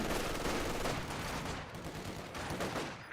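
A Maxim machine gun fires in a Company of Heroes 2 battle, long rattling bursts of rapid shots that sound distant and fairly quiet, mixed with other battlefield gunfire.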